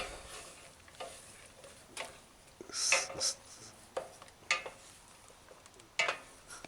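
Meatball elbow alfredo made with a butter-free evaporated milk substitute simmers and is stirred in a pan on the stove, with a soft bubbling sizzle broken by scraping spoon strokes.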